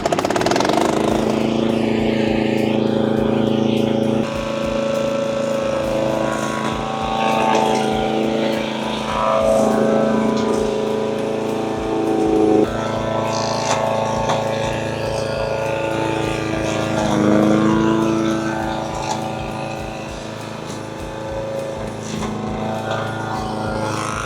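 A Firman FWM700-R robotic brush mower drones loudly and continuously as it cuts through tall, dense bushes, its engine pitch shifting and straining under load.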